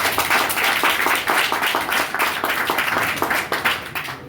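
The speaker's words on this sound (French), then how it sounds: "Je vous prie de les applaudir, s'il vous plaît." An audience applauds the Alliance internationale médicale Action partner organisation at a public hospital maternity reopening, many hands clapping in a dense, even patter close by that holds steady for a few seconds and then eases off.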